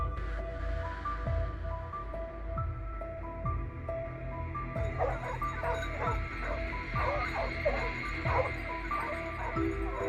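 Hounds bark during a wild boar hunt on a farm: repeated yelping and baying from several dogs, some close and loud, others farther off, in uneven bursts over a low background hum.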